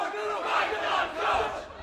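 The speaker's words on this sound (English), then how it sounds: "And we got a chant right now, fight the coach from the crowd." A wrestling arena crowd chanting at a coach, a large, loud, rhythmic mass of voices swelling in repeated waves across the clip.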